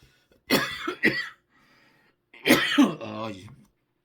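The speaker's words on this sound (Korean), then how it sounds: "기침이 멈추지 않아서" Elderly man coughing, two rough coughs followed by a second harsh burst of coughing and throat clearing, close and loud, with no speech.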